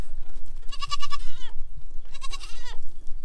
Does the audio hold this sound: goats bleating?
yes